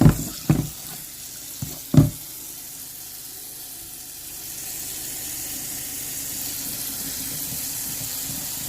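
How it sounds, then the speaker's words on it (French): Water runs steadily from a kitchen sink tap for several seconds, preceded by a few sharp knocks and clatters of handling at the basin; a constant hissing stream with no voices. "Et je vais changer mon eau quand même."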